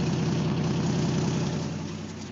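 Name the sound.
cold car engine idling, valves clattering, small exhaust leak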